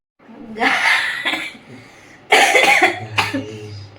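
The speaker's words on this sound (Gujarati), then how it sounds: "ઉધરસ થઈ ગઈ છે" A person coughs in two or three harsh, close bursts separated by short pauses, with a bit of voice mixed in.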